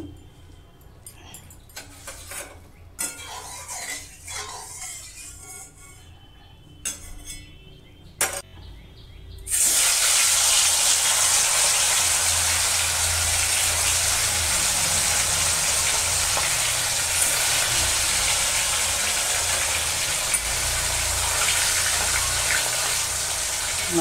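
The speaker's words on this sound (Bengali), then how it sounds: "মাছগুলো আমি আগে ভেজে নেব।" Rohu fish pieces frying in oil in a wok: quieter kitchen clatter gives way about halfway through to a loud, steady, continuous sizzle that holds unbroken to the end.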